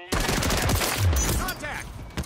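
Rapid gunfire from a Call of Duty Modern Warfare III multiplayer match, with dense bursts of automatic shots and explosions filling the whole stretch, loud and close.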